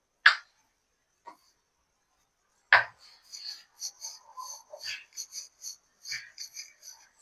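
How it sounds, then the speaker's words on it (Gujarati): Knife chopping dhokli dough into small pieces on a board, two separate thuds followed by a quick run of light, rhythmic taps, close and sharp in otherwise quiet surroundings. "નાના નાના પીસ કરી નાખવાના."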